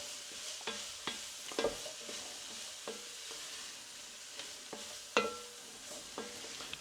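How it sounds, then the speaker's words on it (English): Root vegetables with cumin and chili toasting in a pan: a low, steady sizzle broken by repeated scraping clacks of a spoon stirring, close and without talk. "I'm just going to mix this around. Get them all toasted in those lovely spices."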